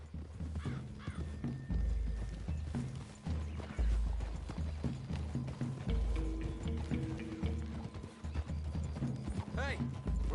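Horses walking through trees in the Red Dead video game, a soft rhythmic clip-clop of hooves under game dialogue, with a brief whinny and crows cawing in the background.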